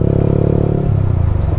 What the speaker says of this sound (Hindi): ये वाली बाइक आ रही है और इसमें एग्जॉस्ट लगा हुआ है।